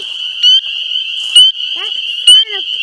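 Tree frogs croak in three loud, sharp bursts spaced about a second apart over a steady high-pitched trill, with softer chirping calls between them and quiet talk in the background.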